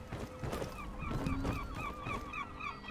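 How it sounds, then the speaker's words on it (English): Seagulls in the Skyrim S.O.S. mod calling in a game world, a series of repeated short squawking cries over a steady ambient bed of wind and water, fairly continuous and moderately loud with no talking. "these seagulls will be flying around, doing their thing, as well as making some custom noises"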